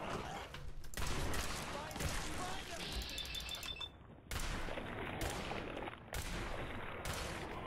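Scatter-shot gun bursts in Fallout 4, loud dense blasts coming in several chunks with brief gaps between them, mixed with mechanical clatter and game sounds.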